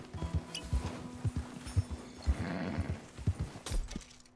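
Horse hooves clip-clop in an uneven walking rhythm in Red Dead Redemption 2, with a whinny partway through. The hoofbeats are close, clear and fairly loud, and no one speaks over them.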